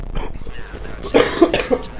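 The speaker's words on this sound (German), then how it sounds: "Mann, scheiß Husten" A man coughs close to the microphone, a short burst of two or three harsh coughs in quick succession after a moment of quiet, indoors at a computer while gaming.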